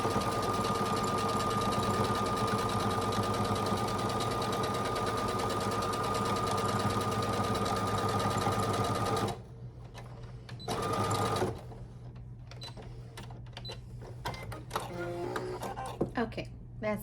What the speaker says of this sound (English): Let me just go ahead and sew across.